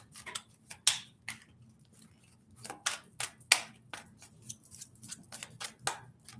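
Crisp, irregular riffling and snapping bursts of cards being shuffled, close and fairly quiet, with short pauses between flurries and no talking.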